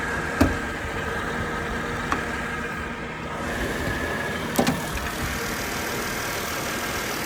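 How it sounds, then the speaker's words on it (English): Mercedes-Benz S320 engine idling, a steady low hum with a few faint clicks and knocks, heard alone without talk. "The motor runs well, but something that did bother me was here on top of the motor."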